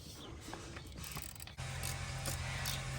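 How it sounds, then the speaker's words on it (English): A 3/8 flex head ratchet with a 12mm socket clicks as it loosens bolts on a Toyota Tacoma, a short run of close mechanical ratcheting over a steady background hum. "So I'm going to release the bolts with the ratchet first"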